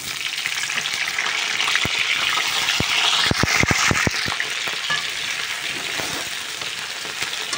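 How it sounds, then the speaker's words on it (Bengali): Two potatoes sizzle and fry in hot oil in a pan just used for frying fish, a steady loud crackle with sharp spattering pops clustered in the middle. "এই তেলে আমি দুটো আলু ভালো করে লাল লাল করে ভেজে নেব"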